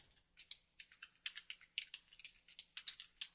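Fast typing on a computer keyboard, a close, quiet run of crisp key clicks with an uneven rhythm and no other sound.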